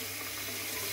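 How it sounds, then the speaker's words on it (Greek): Warm tap water runs over a shaving brush being rinsed at a bathroom sink, a steady faint hiss of flowing water, continuous and unbroken. "αν το ξεπλύνω λίγο περισσότερο, προσπαθώ έτσι κάτω από το, ας πούμε, λίγο ζεστό νερό"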